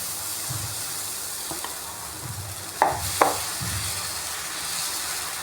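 Egg dosa sizzles on a hot griddle with a continuous close frying hiss, broken by a couple of short scraping knocks midway.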